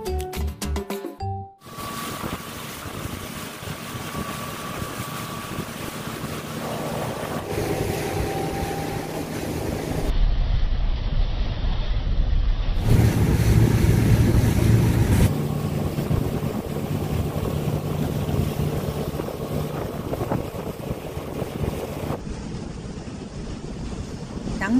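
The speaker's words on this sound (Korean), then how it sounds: "추도는 전기선이 없어 어민의 고깃배를 타고 가야 되는데" A fisherman's boat crosses open sea between small islands off Yeosu, its engine droning steadily with rushing water and wind buffeting the microphone, the noise rising and shifting as it moves, no voices.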